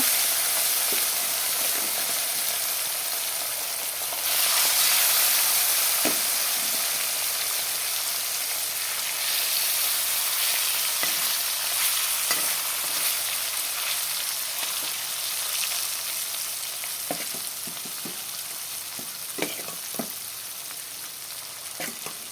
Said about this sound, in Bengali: তেলটা গরম হয়ে গেল এখন মাছগুলোকে ঢেলে দেবো